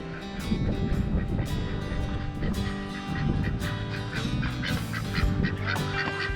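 Loud, busy honking and quacking from a crowd of ducks, calls overlapping continuously with no pauses.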